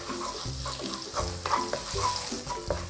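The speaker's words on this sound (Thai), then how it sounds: "และตามด้วยกระเทียมสับลงไปเลยค่ะ แล้วก็ผัดคลุกเคลานะคะให้หอมเลยนะคะ" Chopped garlic stir-fried in a pan: a continuous close sizzle with repeated scraping strokes of the utensil at a steady pace, heard alone.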